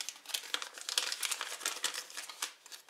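Plastic packaging around a Sony ICD-PX440 voice recorder crinkles close to the microphone in quick, continuous rustling bursts for a few seconds, with no talking.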